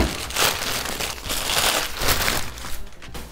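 Packaging crinkles as a delivery box holding custom keyboard supplies is opened, close-up rustling and crumpling in uneven bursts with no talking.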